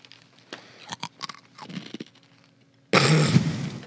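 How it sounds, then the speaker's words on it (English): Close-miked chewing and crunching of Chex Mix snack, loud crisp crunches bursting at the end after a few quieter mouth clicks and bites. "Nothing like chewing into the mic."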